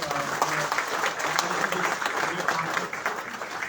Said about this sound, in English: I want to again end with a big round of applause to the Goa team